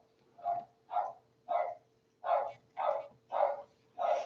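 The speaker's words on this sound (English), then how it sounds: "Listen to that little dog chomping up a storm over Pizza Guy" A small dog barks in a rapid series of seven sharp, evenly spaced yaps, moderately close and loud, with no talk over it.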